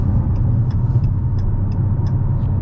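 A 2022 Dodge Challenger Hellcat with a supercharged engine, heard from inside as a steady, deep low rumble while cruising, loud and constant, with faint light ticks above the drone.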